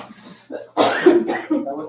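A single close cough during a school board meeting, a short harsh burst followed by a couple of softer throat sounds, with room noise around it.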